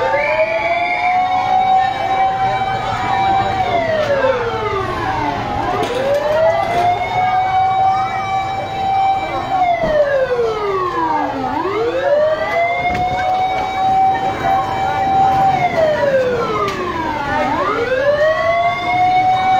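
A fire truck siren wails as the engine arrives at a house fire in Pasay City. The siren sweeps up and down in long, steady cycles about every six seconds, loud and close, with no talking.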